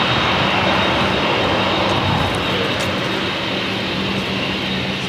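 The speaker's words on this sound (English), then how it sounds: "We have Austrian taxiing there in the background" An Austrian Airlines jet taxiing at LAX, its steady engine roar and hiss droning continuously in the distance.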